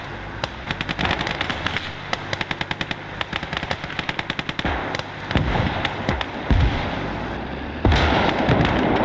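Video game battle gunfire in Gates of Hell: Ostfront, with dense machine-gun bursts and rapid shots rattling continuously, followed by heavier blasts near the end.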